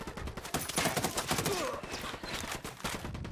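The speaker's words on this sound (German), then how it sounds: "ich schieße gerade gegen Unidad" Rapid gunfire from a firefight against Unidad enemies in Ghost Recon Wildlands crackles in dense bursts throughout, fairly faint and steady.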